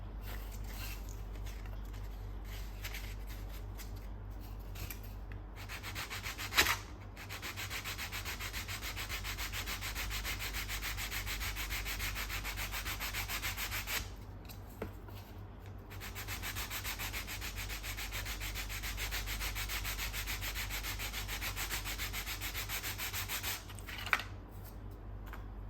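Steady, close rubbing of sandpaper on a Kill Team terrain piece, continuous for most of the clip with a few brief pauses and small knocks.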